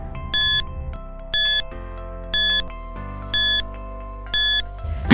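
Quiz countdown timer in a classroom lesson: a steady sustained tone runs under five evenly spaced bright chiming beeps, about one per second, loud and alone with no talk.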